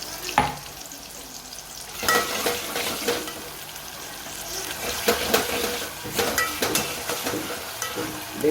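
Onion and tomato frying in a pan for a spiced moong dal with ginger, chilies and garlic, a steady close sizzle broken by several bursts of spoon-scraping stirring, with no talking.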